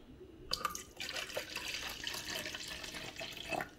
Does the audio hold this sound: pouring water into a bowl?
yes